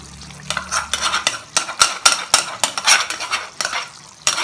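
Fried onion, tomato and herbs being stirred into a masala gravy in a pan, with loud, repeated scraping and clattering utensil strokes against the pot over a soft sizzle.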